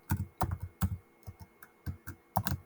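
Rapid clacking of a computer keyboard being typed on in uneven bursts, close and clear with short pauses between keystroke runs; no voices.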